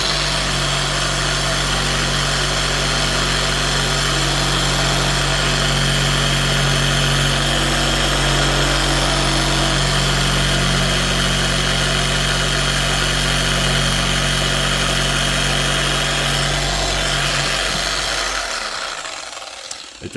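A Chemical Guys TORQ 15 DA dual action random orbital polisher runs with a steady, loud motor whine and rubbing buzz, constant and close throughout, before cutting off at the very end.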